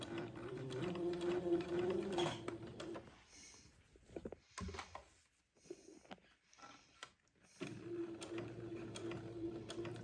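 A sewing machine stitches a curved quilt seam with a narrow seam allowance, its motor whirring in steady runs at the start and again at the end, with a quiet pause in between.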